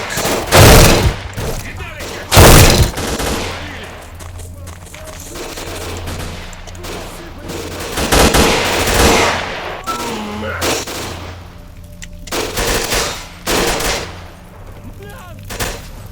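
Repeated heavy shotgun blasts in the Oblivion Lost mod of a first-person shooter, loud booming reports spaced a few seconds apart with sustained gunfire and game noise between them.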